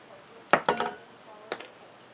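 A spoon scrapes and clinks against its container while levelling sand for a miniature fairy garden patio: a few sharp metallic taps in a quick cluster, then one more clink after a short pause.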